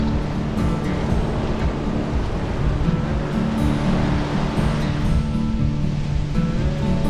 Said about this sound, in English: The waves are great for boogie boarding.